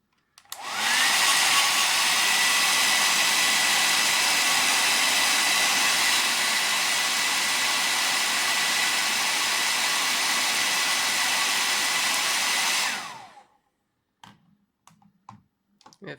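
A hair dryer used as the fan in a homemade climate-control project runs in a loud, steady, even whoosh for about twelve seconds, then shuts off, leaving a few faint clicks.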